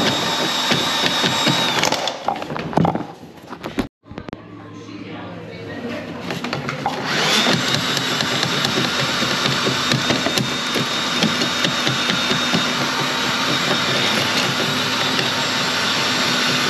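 A drain cleaning machine clearing a blocked urinal grinds and rattles with a steady mechanical whir that briefly drops out and then resumes, running loud and continuous.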